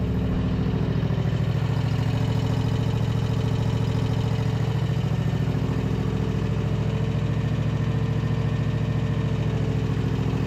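A zero turn mower engine idles steadily and smoothly, giving a continuous close, even rumble with a regular low pulse throughout and no voices.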